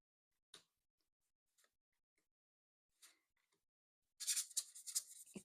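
Soft ticks and taps at first, then a burst of crisp papery riffling as a deck of tarot cards is shuffled, fairly close and quiet.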